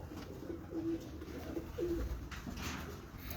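Soft, low coos of a large golden pigeon repeat in a few short rolling phrases against a quiet background, close by.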